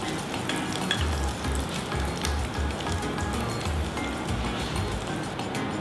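Potato sesame rolls frying in hot oil, giving a steady, dense crackling sizzle that stays close and even throughout, with no talking.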